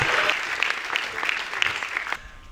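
Audience applause at a Perth film premiere screening, steady dense clapping that rolls on for about two seconds before cutting off abruptly.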